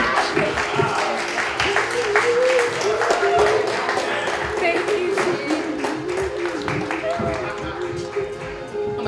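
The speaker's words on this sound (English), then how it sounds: "Clap it up one more time for Isolated Beauty." An audience at a live show claps and cheers in a steady, sustained round of applause that lasts throughout, with a voice talking over it.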